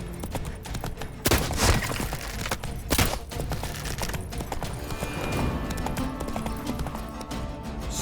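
Horse hooves beat in quick clip-clop rhythm as a mount gallops in The Witcher 3 video game, with a couple of louder thumps and a steady close running pace.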